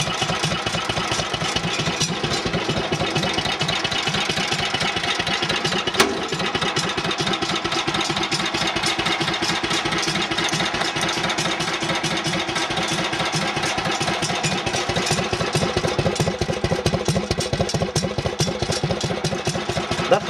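A Cub Cadet 1650 hydrostatic lawn tractor engine idles through a homemade muffler, a steady, close, rapid putter that stays even throughout, with one small knock partway through.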